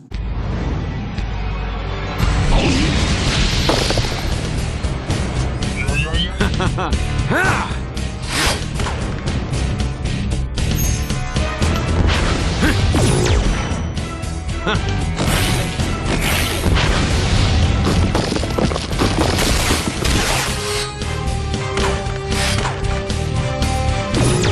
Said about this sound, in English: He was shooting lasers everywhere and fighting other robots